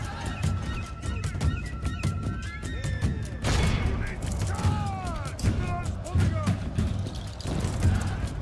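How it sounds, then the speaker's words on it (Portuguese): Battle sounds from Medieval II: Total War: repeated booming cannon shots over galloping hooves, clashing noise and horse whinnies, with a voice talking throughout. "o canhão tá acertando ali no meio agora"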